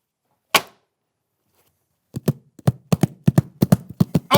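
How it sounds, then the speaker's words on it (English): Horse hooves clop on a hard surface in a quick, irregular run of sharp taps after a single isolated knock, close and fairly quiet, with no voices. "Oh, that's a horse!"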